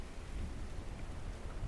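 A faint rain and thunder ambience from a tabletop game play test, a steady wash of rainfall with a low rumbling beneath it, continuous and without voices.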